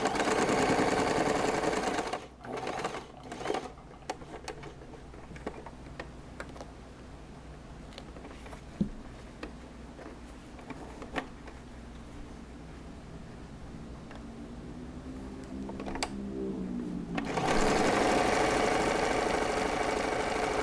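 A sewing machine stitches a fabric pouch, with a loud whirring run at the start and end and a quieter stretch of clicks and handling sounds in between.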